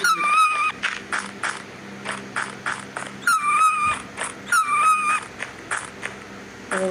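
A dog in a video game whimpers, yips and growls in repeated short bursts of high, wavering cries separated by brief pauses, heard close and clear with no talk.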